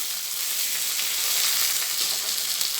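Onions frying in a pan for an eggplant-mustard dish, giving a steady, dense sizzle that holds evenly and fairly close throughout, with no talking.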